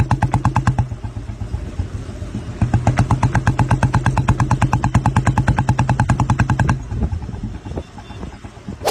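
A motorcycle, just back from repair, rides along with a loud, close, rapid rhythmic engine thump that keeps going throughout with slight shifts in pace, with no talk over it.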